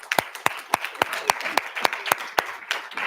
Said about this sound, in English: Actually, let's give a round of applause for that.